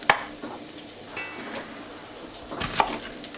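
Chopped endives and onion cooking in a pot: a soft sizzle with scattered light stirring clicks and scrapes, fairly quiet and close, with no talking.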